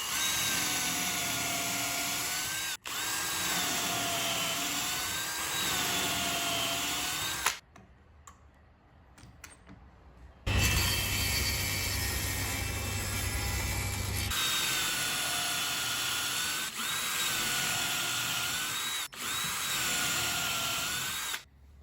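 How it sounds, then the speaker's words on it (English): A drill boring dowel holes into a wooden box frame with a dowel jig, a loud steady whine running in long stretches broken by a brief pause and a few sharp clicks. "drilling holes for dowels using the dowel"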